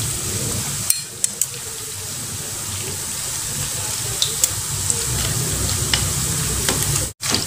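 Coconut chips fry in a little oil in a small wok with a steady, dense sizzle close up, broken by occasional scraping stirs and light clinks, with no voices.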